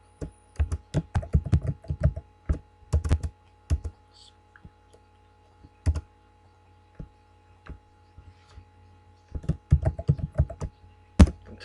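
Bursts of typing on a computer keyboard at a desk, close and crisp, with rapid clustered key clicks, short pauses and scattered single taps over a faint steady electrical hum.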